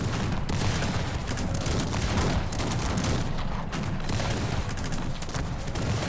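Rapid, continuous cannon and gunfire from multi-barrel cannons in the Cossacks 3 strategy game, a dense, loud barrage of overlapping booms and crackling shots that keeps up without pause.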